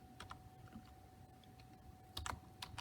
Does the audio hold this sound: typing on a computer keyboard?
yes